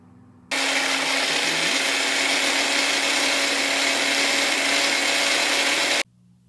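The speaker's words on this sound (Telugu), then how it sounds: "నేను ఇప్పుడు గ్రేప్ జ్యూస్ని గ్రైండ్ చేసుకుంటున్నాను." A mixer grinder blends red grapes into juice with lemon juice added, a loud steady motor whir starting abruptly and running continuously for about five and a half seconds before cutting off.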